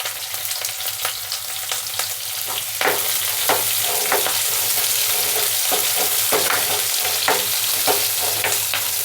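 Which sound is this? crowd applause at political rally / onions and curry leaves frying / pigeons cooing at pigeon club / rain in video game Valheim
onions and curry leaves frying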